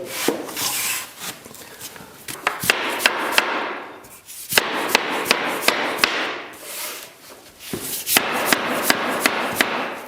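Floating engineered parquet boards are tapped together to lock them, giving sharp wooden knocks in quick bursts of several blows, separated by scraping and rubbing as boards slide into place, loud and close with no talk.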